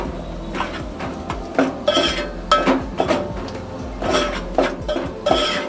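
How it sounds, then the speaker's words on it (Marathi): Jackfruit and dried shrimp (jawla) curry, Malvani style, being stirred in a pan, with repeated scraping and clinking strokes of a spoon against metal at a steady, uneven rhythm, close and fairly loud, with no talking. "आता हे ढवळून घेऊया आपण।"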